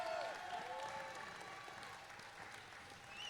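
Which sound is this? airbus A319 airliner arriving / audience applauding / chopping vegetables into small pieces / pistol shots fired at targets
audience applauding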